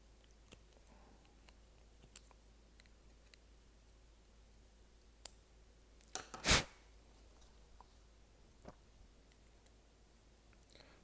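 Cutters snipping a plastic part off a Hot Wheels Porsche toy car, several faint small clicks and then one sharp, close snap standing out against a quiet background.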